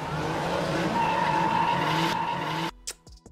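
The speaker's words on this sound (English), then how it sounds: "To top it off, the sound of a drifting car used as a riser." Loud, sustained tire squeal of a drifting car skidding, used as a riser in a phonk track, holding steady for nearly three seconds before cutting off abruptly into sparse, choppy noises.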